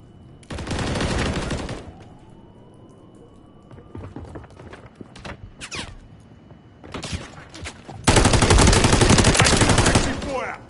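Automatic weapon fire in the Call of Duty MW3 beta: a loud burst early on, then scattered single shots and short pops, and finally a long, sustained, heavy volley near the end.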